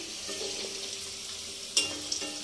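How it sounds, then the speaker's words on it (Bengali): Pumpkin slices frying in oil for a festive home meal, a steady close sizzle with a few sharp spatters and clinks toward the end. "এই দেখো বন্ধুরা, কুমড়ো ভাজা হচ্ছে"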